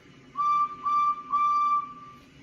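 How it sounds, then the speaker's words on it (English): The Edward steam engine in Roblox sounds its train whistle in three clear, loud, steady tones in quick succession, each about a third of a second, with the last held longest. "I'm going to give you one more whistle from Edward."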